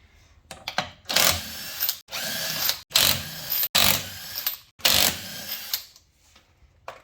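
A power tool zips wheel nuts off a 2006 BA Ford Falcon raised on jack stands, giving about six loud, sharp whirring bursts separated by brief pauses.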